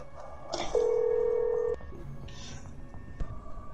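A phone rings during a Rainbow Six Siege match with one clear, sustained electronic ring tone lasting about a second. Soft clicks and faint background game noise surround it.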